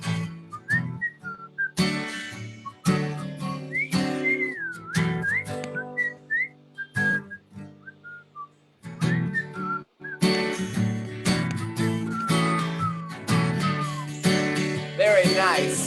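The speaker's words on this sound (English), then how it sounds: "Whistle with me," Several people whistle a wandering tune together, the melody rising and falling in phrases with short breaks, fairly close and clear.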